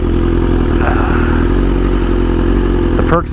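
A motorcycle rides along a highway past stuck traffic, its engine a loud, steady close drone with a brief clatter near the end.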